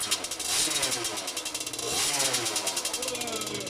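A Gilera SMT Racing 50cc motorbike with a drinks-can head gasket starts and revs hard, its buzzing two-stroke note rising and falling in quick bursts, close and loud throughout.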